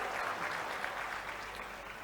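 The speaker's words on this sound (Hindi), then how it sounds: "ताली वाली जरा जोर से बजाओ" A rally crowd in Panna claps steadily in a dense, continuous wash of applause that holds at an even level throughout.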